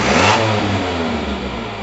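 A carbureted Mazda 1300 engine under carburetor repair revs up close and loud, then its note falls back toward idle in one short, steady run with no talk.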